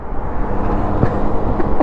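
A 102 moped engine held at full throttle against the rev limiter, a dense, continuous buzzing drone heard close, without talk.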